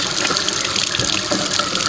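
Water runs steadily from a tap as a makeup sponge is rinsed in the sink, a loud, continuous close-up rush with no talking.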